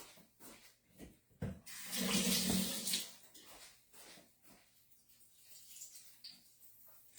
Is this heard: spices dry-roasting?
no